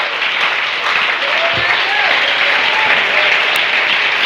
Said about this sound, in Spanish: Ese aplauso para el Rey de la Gloria.